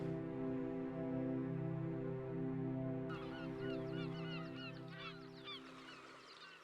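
Geese honk repeatedly from a migrating flock passing through Spain, starting faint and growing into a busier, overlapping chorus of calls over a steady low background hum.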